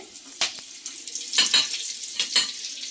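Curry leaves and dried red chili sizzle in hot oil for a tempering, with several sharp crackling bursts and a steady hiss close to the pan.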